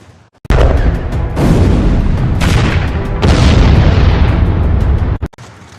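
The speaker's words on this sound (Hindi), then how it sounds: "ये धमाका रूस के मिसाइल हमले के बाद हुआ।" A massive explosion from a Russian missile strike in Kyiv, Ukraine, near an oil depot: a sudden loud blast followed by a long rolling roar and rumble that fades after about five seconds.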